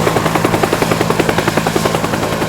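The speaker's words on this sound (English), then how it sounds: "You just remade a whole helicopter." A helicopter in the multiplayer video game Teardown thumps steadily with fast, evenly spaced rotor beats, loud and close, with no talk over it.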